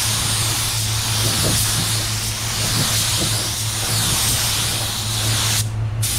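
Spray gun laying down a second coat of clear paint over candy red, a loud, steady close hiss that runs almost without a break before cutting off near the end.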